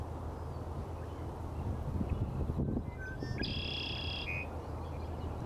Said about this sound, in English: The red-winged blackbird sings like this for hours in the morning and evening during the breeding season.